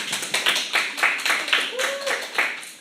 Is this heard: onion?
no